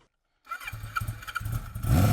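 Kawasaki Z1R TC Turbo motorcycle engine cranking and catching after a moment of silence, sputtering unevenly then firing into a loud rough roar, close by.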